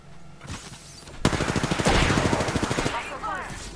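Bursts of automatic gunfire from the video game Apex Legends fire in a rapid rhythmic volley for about two seconds, loud and close, after quieter game ambience, with a voice speaking briefly around the shots.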